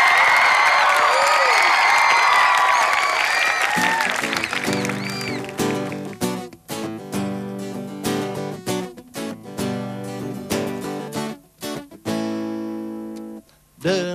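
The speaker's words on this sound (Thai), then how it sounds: "ขอเสียงปรบมือให้รักเมืองไทย" A studio audience on a Thai TV show claps and cheers loudly for about four seconds, then the applause fades as a band's music starts and takes over.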